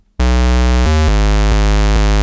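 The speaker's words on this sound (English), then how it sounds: "So this is a square waveform. We're then gonna pitch these down by 2 octaves." A loud, buzzy synth bass built from a square waveform pitched down two octaves for a speed garage track, holding sustained notes with a few pitch changes after a sudden start, no voices.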